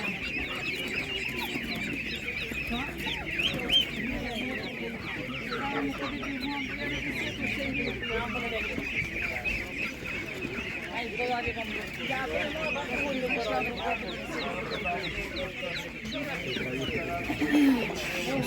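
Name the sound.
chickens clucking at poultry market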